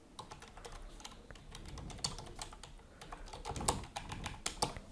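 Rapid typing on a computer keyboard, close and fairly quiet: a steady run of light key clicks with occasional louder taps and short pauses.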